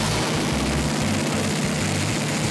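A 600-horsepower Godzilla V8 engine runs on a dynamometer, a loud continuous heavy drone with a deep low rumble and dense broadband roar throughout.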